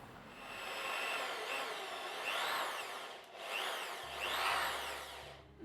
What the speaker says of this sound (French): Alors on va venir percer ici, là au centre, pour faire passer ceci